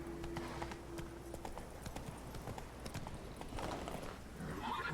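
Hooves of the horse Roach clip-clopping at a gallop in The Witcher 3, a steady quiet rhythmic beat over game ambience, with a faint whinny-like sound toward the end.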